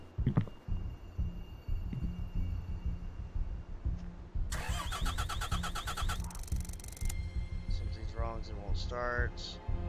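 A car engine in a survival video game cranks and catches in a harsh, buzzing burst lasting a few seconds, with steady game rumble and a person talking over it throughout.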